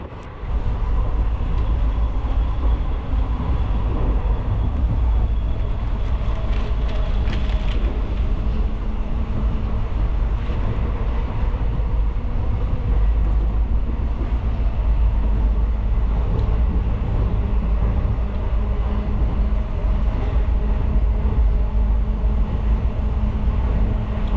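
A passenger train running from Chamarajanagar to Mysore, heard from inside the coach: a steady, loud low rumble and rattle of the carriage that continues unbroken throughout.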